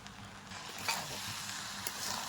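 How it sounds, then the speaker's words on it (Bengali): Soaked, drained pilaf rice frying in ghee in a pan gives a steady, close sizzle with light scraping stirs, and a couple of brief louder clinks of a utensil against the pan. "এই পোলাও চালটা ভাজার মধ্যে দিয়ে দিচ্ছি একটু ঘি"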